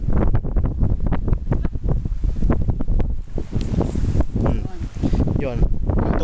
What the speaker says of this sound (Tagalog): Dito, malakas yung hangin, uulan nata.